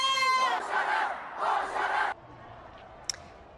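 Thousands of protesters at a rally in Grand Park, Los Angeles, chant together in loud rhythmic bursts, then the chanting breaks off into quieter murmur with a brief sharp sound near the end.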